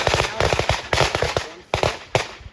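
Handgun shots fired from the draw at a close target, heard as a rapid run of sharp, loud cracks in quick bursts with brief gaps between them.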